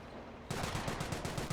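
Rapid bursts of machine gun suppressive fire in the Company of Heroes 1 war game, a steady rattling string of shots that starts abruptly and runs on loud and close, with no talk over it.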